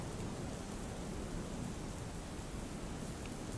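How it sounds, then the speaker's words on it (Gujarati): Heavy monsoon downpour over Bhavnagar city streets, a dense, steady roar of rain that holds evenly throughout with no pauses or voices. "ભાવનગર શહેરના અનેક વિસ્તારોમાં ધોધમાર વરસાદ વરસી રહ્યો હતો"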